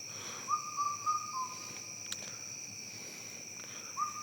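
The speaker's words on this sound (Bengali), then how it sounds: "ওই পাখিটা অনেকক্ষণ যাবত এরকম ডাকাডাকি করছে।" A night bird calls in short repeated whistled notes, a few in quick succession and another after a pause, over a constant background of insect trilling and faint ambient noise.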